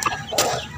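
A chicken gives a short cluck or two, close and fairly quiet, a brief burst standing alone.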